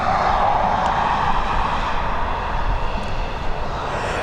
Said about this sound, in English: We've got the A321 on departure now